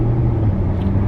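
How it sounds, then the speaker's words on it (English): Steady low rumble of passing cars on a busy street in Gatlinburg, a continuous engine drone close by with no voices over it. "A lot of people, a lot of cars."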